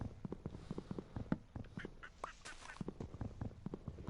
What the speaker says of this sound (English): I think it might be a duck.